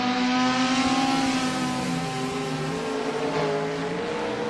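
Race car engines roar at Bathurst in the Assetto Corsa racing game, a steady loud whine that holds through the whole stretch with a slight dip and rise in pitch, with no talk over it.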